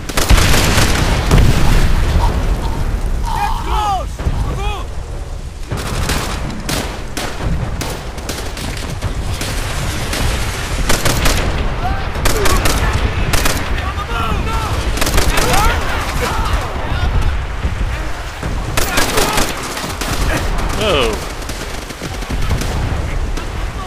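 Heavy gunfire from enemies in Call of Duty: World at War, with dense rifle and machine-gun bursts and booming blasts sustained loud throughout, close and continuous, with a voice talking intermittently over the battle.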